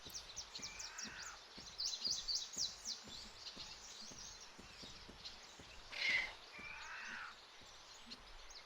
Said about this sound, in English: it's that little chirp there makes me think like something's almost on us or pouncing at us